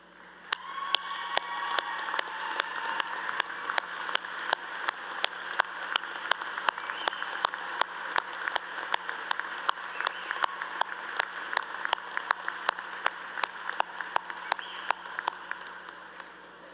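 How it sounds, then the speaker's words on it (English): Sparse, steady clapping from an audience at a university commencement ceremony, fairly faint and distant, with sharp individual claps standing out over a soft hall murmur for the whole stretch. "would you please stand so our graduates can give you a rousing round of applause"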